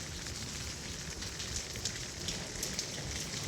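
Rain falls steadily in Saudi Arabia during the winter, a dense continuous hiss of drops hitting the ground and surfaces, with a few louder splats standing out and no voices.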